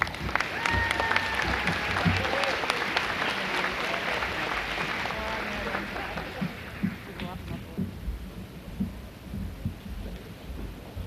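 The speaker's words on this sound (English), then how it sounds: "if you could please hold your applause till the whole group has waited on the stage" Sustained applause from a crowd at a graduation ceremony fills the first half, then thins into scattered claps and murmuring, with some talk underneath.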